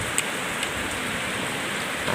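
Steady rain pours down in a dense, even hiss, with occasional louder drops striking a nearby surface and no talking.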